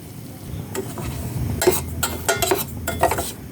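Semolina roasting in ghee in a pan for upma, stirred with a utensil that scrapes and clinks against the metal in an uneven rhythm over a soft, steady sizzle.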